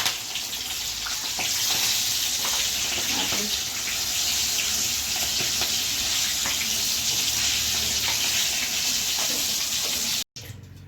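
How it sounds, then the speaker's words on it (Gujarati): Continuous crackling sizzle of green chili peppers frying in hot oil for serving with gathiya, steady and close, with faint voices underneath and a brief cutoff near the end. "આપણે મરચાં તળી નાખીશું"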